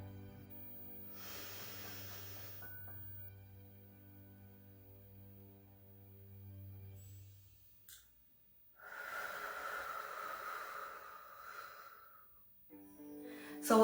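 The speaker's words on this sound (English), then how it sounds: "we breathe in for 4 seconds, then we breathe out for 4 seconds" Slow breathing during a breathing exercise, a long soft inhale followed after a pause by a louder drawn-out exhale, close and breathy over faint low background hum.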